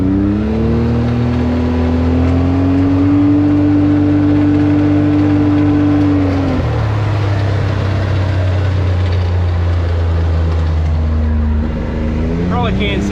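A Can-Am off-road vehicle on a test drive, its engine a loud, steady close drone that holds a high rev before dropping to a lower hum and rising again near the end.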